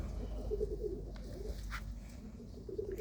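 A pigeon coos softly in low, repeated throaty pulses, faint and somewhat distant over a steady background hum.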